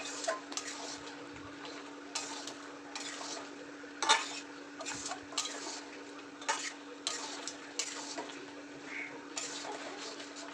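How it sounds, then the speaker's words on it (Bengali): Mutton is being sautéed in a pan, a low frying hiss under repeated irregular scrapes and clinks of a spoon against the metal as the meat is stirred, close and fairly loud. "ভালো করে আমি কষাতে থাকবো"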